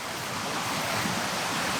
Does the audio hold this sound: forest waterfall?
yes